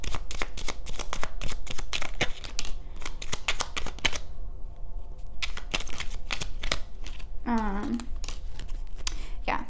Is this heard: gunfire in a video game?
no